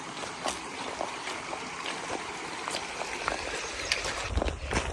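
Water sloshes and splashes around the feet of someone wading across a trail creek, with irregular close splashes over a steady background of trickling stream flow; no talking.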